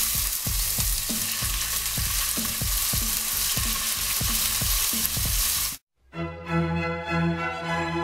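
A fish fillet sizzles steadily in a hot pan with rhythmic stirring or scraping taps, loud and continuous before a brief cutoff and a tonal change in the final seconds.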